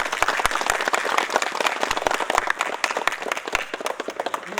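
Loud, sustained applause from an audience at a foundation stone ceremony for student hostels at IITM college in Zanzibar, dense clapping filling the room with no voices.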